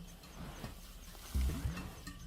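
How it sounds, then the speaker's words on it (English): A warthog stirs inside its underground den on the African savanna, giving low muffled grunts and thumps that rise briefly in the second half over a steady outdoor background hiss. "Muffled sounds give away that a warthog is in its den."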